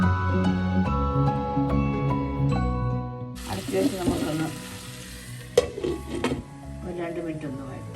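Chopped snake gourd sautés in a hot pan for a stir fry, with a steady sizzle and stirring scrapes, preceded by background music and occasional clinks of utensils.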